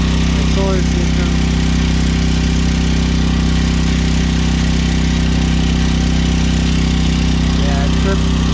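A generator engine runs steadily and loudly nearby in a snowy outdoor setting, a constant droning hum with no change in pace, and a voice faintly under the noise.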